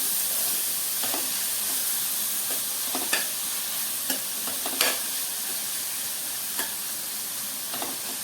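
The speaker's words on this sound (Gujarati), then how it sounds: "ગાજરનું ખમણ એડ કર્યા પછી આપણે મિક્સ કરીએ અને ગાજરને આપણે ચડવા દઈએ" Grated carrot cooking in ghee in a pan for carrot kheer gives a continuous soft sizzle, with occasional scraping stirs of a spoon against the pan.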